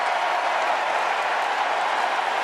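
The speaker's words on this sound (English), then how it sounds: "Look at the thunderous applause after that one." Loud, dense, continuous applause from a crowd, even and sustained throughout the short stretch with no voices over it.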